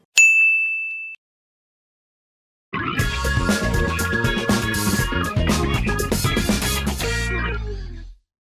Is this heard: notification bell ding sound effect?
yes